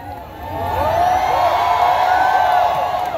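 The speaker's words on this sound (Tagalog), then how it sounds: "Lahat ng naniniwala sa pagbabago, sumigaw ng malakas." A large crowd at a political rally roars and shouts loudly together, a sustained swell of many voices with whoops rising over it, building after a moment and holding strong.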